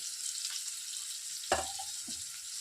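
Half a batch of pre-boiled cauliflower pieces frying in oil in a pan for Andhra-style cauliflower vepudu gives a steady, soft sizzling hiss, with a single stirring clank midway.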